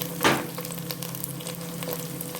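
Sardines frying in a hot pan, a close, steady crackling sizzle with a louder burst near the start as they hit the oil, then scattered pops and light stirring.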